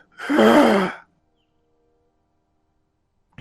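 A voice imitates labored breathing with one drawn-out, strained, raspy exhale, close and loud, then silence.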